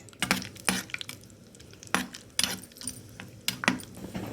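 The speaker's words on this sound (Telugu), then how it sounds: "ఫస్ట్ మనం జీడిపప్పుల్ని కొంచెం ఆయిల్లో ఫ్రై చేసుకుందాం" Cashews frying in oil in a pan for wheat rava upma, a soft sizzle under a series of sharp metallic scrapes and clinks from a spoon stirring, arriving in irregular bursts.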